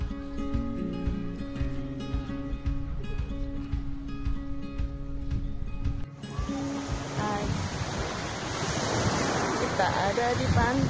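Waves wash onto a beach in Tegal, Indonesia, under steady wind, with a busy rush of surf that grows louder toward the end and faint voices mixed in.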